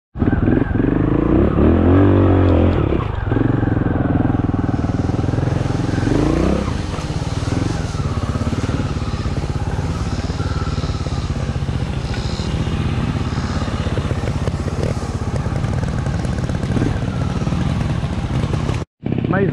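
A motorcycle engine revs hard and roars close by as a wheelie is attempted in a dirt riding setting, holding a loud, continuous drone with rising pitch early on before it cuts off abruptly near the end.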